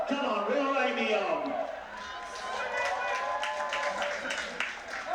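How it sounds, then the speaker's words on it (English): Applause from spectators in an outdoor athletics stadium at a university championship, a broad distant wash of clapping and crowd noise running under a commentator's voice throughout. "So applause in the stadium"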